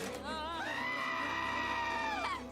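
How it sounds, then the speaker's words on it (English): A creature in an animated Star Trek: Lower Decks episode lets out a long, wavering, shrill scream that rises and holds, loud and alone, for about two seconds. "Why is this thing screaming?"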